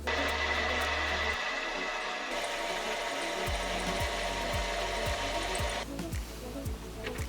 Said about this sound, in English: we can use the compound slide to machine the angle lip at the central nozzle